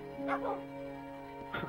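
A Minecraft dog gives a couple of short, soft barks and yips in the Xbox 360 Edition, heard faintly over a steady background hum.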